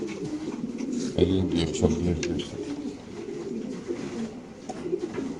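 Caged racer pigeons on a pigeon farm coo in low, throaty bursts close by, while someone talks over them.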